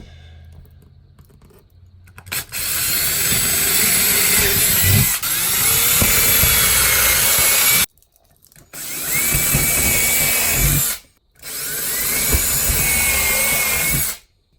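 A power drill whirs in three long bursts, pre-drilling holes for a Samsung TV mount, loud and close, with short pauses between runs and no talking.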